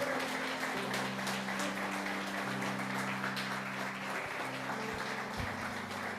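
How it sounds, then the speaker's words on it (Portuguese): Sustained applause from a church congregation rings out over a held, droning organ or keyboard chord, steady and fairly loud throughout. "Você pode aplaudir ao Senhor"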